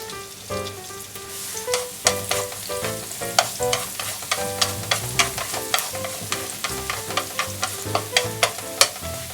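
Chopped garlic frying in rendered beef tendon fat for a Showa-era beef tendon curry, a steady close sizzle broken by repeated sharp scraping stirs, with no voices.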